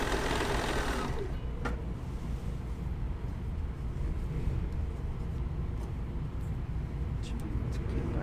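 Sewing machine running steadily while stitching a quarter-inch seam on a pillowcase, a continuous close whir throughout with light background noise.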